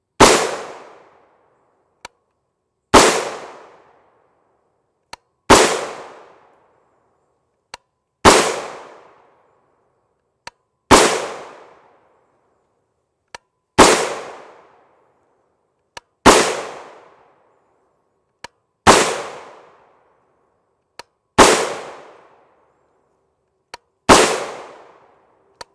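Ten sharp rifle shots from a 10.5 inch 300 Blackout Palmetto State Armory build ring out at an even pace, each loud and close with a brief echoing decay and quiet gaps between them.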